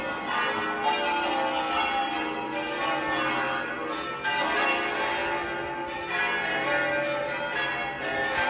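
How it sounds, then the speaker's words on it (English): Several church bells ringing together in the Dolomites, Italy, in a sustained, overlapping peal, rich and resonant, filling the air without pause. "there are so many church bells ringing"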